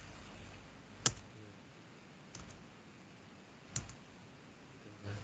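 Keystrokes on a computer keyboard, three sharp isolated clicks spaced a second or more apart over faint background hiss, no voices.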